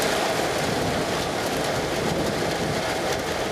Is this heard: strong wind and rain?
yes